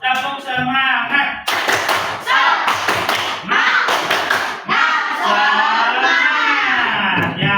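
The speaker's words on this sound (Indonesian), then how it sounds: "Tepuk semangat." Children in a classroom do the Indonesian "tepuk semangat" clapping chant, loud bursts of hand claps in a rhythmic pattern alternating with group voices chanting and a teacher's voice.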